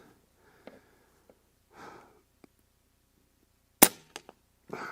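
A single sharp crack of an Air Arms S510XS Ultimate Sporter .25 PCP air rifle being fired outdoors at a 50-yard range, loud and close, followed by a quick faint click and soft rustle in a quiet setting.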